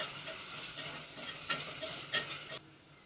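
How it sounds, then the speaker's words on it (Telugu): Biryani masala and ginger garlic paste fry in a pan for an egg biryani, giving a steady close sizzle with light stirring scrapes that cuts off abruptly near the end. "ఈ మసాలాలను ఫ్రై చేసుకోండి."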